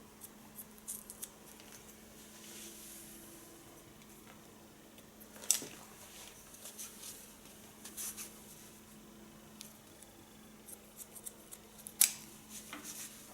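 Scissors trim long blonde hair during a haircut, giving sparse, soft snips with a couple of sharper cuts over a quiet room hum.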